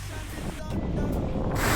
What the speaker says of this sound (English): Look at the size of the waves coming in